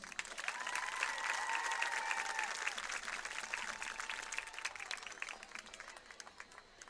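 A crowd at a homecoming event claps and cheers in sustained applause that swells early, then slowly thins and fades out over several seconds.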